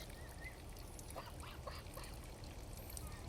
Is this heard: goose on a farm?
yes